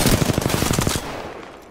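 Rapid automatic gunfire in the shooter Apex Legends: a loud, close burst of about a dozen evenly spaced shots lasting a second, then a fading echoing tail.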